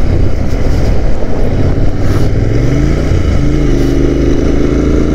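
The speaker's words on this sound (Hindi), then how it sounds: "इंटरसेप्टर बिल्कुल आराम से चढ़ती जा रही है" A Royal Enfield Interceptor 650 Mark 2 (2021) climbing the Khardung La mountain pass, its engine droning steadily and loudly with rising pitch under strong wind rush.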